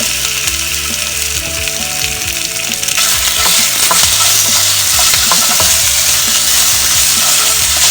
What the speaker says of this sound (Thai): อันนี้มันจะทำแบบผัด ค่ะพอหอมแล้วนะคะ ก็จะใส่หมูนะคะ